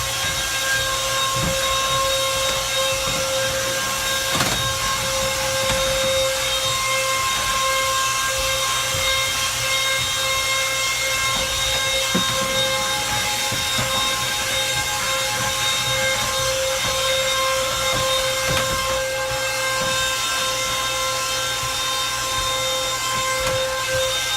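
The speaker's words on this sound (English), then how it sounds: "It's a Black & Decker Pivot Lithium 20 vac hand vac" A steady, loud motor whine and hiss from a Black & Decker Pivot Lithium 20V cordless hand vacuum running continuously on a floor, with occasional clicks and bumps as it moves.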